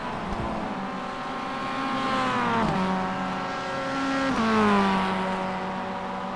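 Mazda MX-5 race car engine at Summit Point in the iRacing simulator, a loud close droning whine that climbs steadily, drops sharply at two gear changes and climbs again, with no talk.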